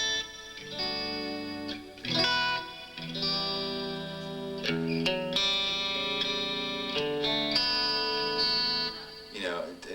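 Electric guitar with the two middle pickup coils combined in hum-canceling mode gives a scooped, warm tone, played as sustained chords and notes with effects, heard alone at a guitar clinic.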